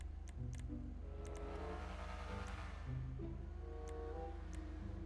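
Volkswagen Golf exhaust in the GTA 5 video game, revving with a steady, continuous game-engine drone and small ticks, held at a moderate level for the whole stretch.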